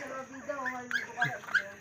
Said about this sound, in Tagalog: Ay, may tuta ng bago.